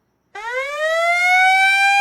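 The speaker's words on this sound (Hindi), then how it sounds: "एयर रेड सायरन अगर सुनाई दे," An air raid siren starts abruptly after a short silence and rises into a loud, sustained wailing tone that climbs in pitch and holds steady, heard alone and close.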